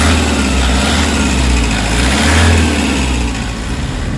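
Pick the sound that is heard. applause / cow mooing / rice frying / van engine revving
van engine revving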